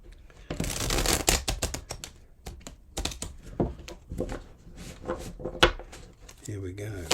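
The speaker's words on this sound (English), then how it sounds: "Just give it one more shuffle." Tarot cards are shuffled in quick, papery riffles and taps, close and fairly quiet, in several bursts with brief pauses.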